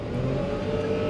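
A mid-engined all-wheel drive Japanese sports car accelerates hard up an expressway on-ramp, its engine droning loud and steady with a rising tone heard from inside the car.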